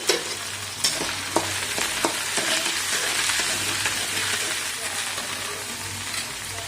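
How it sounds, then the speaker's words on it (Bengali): Potato, cauliflower and carrot pieces frying in hot oil in a pan, a loud steady sizzle broken by a few sharp scrape and stir clacks of a spatula, no talking. "সর্বপ্রথম আমি আলুটা দিয়ে দিচ্ছি, ফুলকপিটা দিয়ে দিচ্ছি, গাজরটাও দিয়ে দিচ্ছি। সব ভেজে নেব।"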